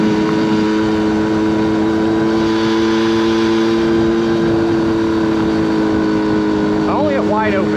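A 1979 Honda Express moped engine runs at wide open throttle, a steady loud buzzing drone with a slightly uneven, sputtering edge throughout, and brief voice-like chirps near the end.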